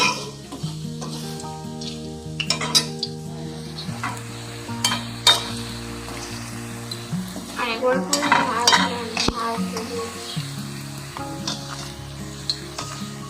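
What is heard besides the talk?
flower paste fritters frying and being stirred in a pan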